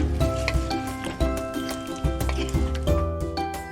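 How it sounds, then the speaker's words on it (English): Chicken stew with potatoes and carrots being stirred in a pot, giving wet squishing and scraping sounds in a steady rhythm, close and moderately loud, with faint background tones. "Mix it nicely."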